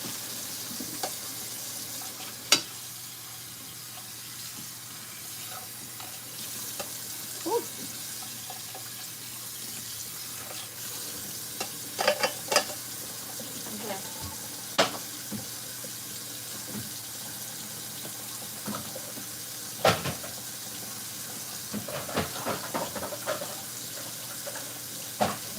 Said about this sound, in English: We're gonna drain the pasta.